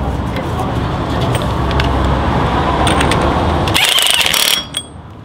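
A loud impact gun hammers rapidly at a Land Rover Discovery 2 TD5 wheel centre nut, rattling steadily for over four seconds before cutting off to quiet workshop noise.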